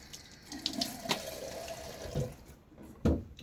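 Water from a tap splashes in a sink and onto a face during a wet shave with a Gillette Aristocrat Jr safety razor, several short uneven splashes and trickles close by, with a brief pause before a final louder splash.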